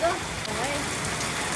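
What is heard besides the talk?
heavy rain falling on tin roof sheets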